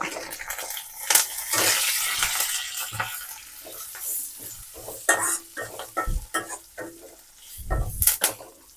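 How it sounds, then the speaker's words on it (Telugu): Urad dal, mustard seeds, cumin and asafoetida sizzle in a little hot oil while a spoon stirs and scrapes the pan, with bursts of crackling and clinks of metal. "మినపప్పు, ఆవాలు, జీలకర్ర కొంచెం వేస్తాను."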